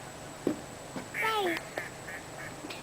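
In a park, a duck gives a quick run of short, nasal quacks at moderate distance, with a person briefly speaking over the scene.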